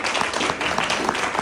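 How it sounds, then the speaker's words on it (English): Short stretch of steady audience applause at a US Senate candidate forum in Alabama, dense clapping throughout. "Give Mom some applause."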